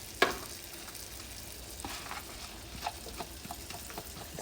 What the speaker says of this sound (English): now that the butter is melting, I'm going to add the rest of our garlic to the sauce and our parsley.